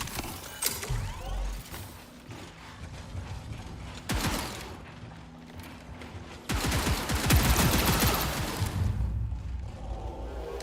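Rapid, dense bursts of automatic weapon and laser fire in the game Warframe, loud and continuous with mechanical clatter, building into heavier sustained volleys toward the end.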